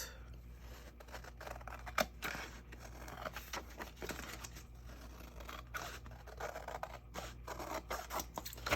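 Scissors trim excess paper from glued layered craft tags, giving quiet, close snips and papery scraping in a steady irregular run with no talking.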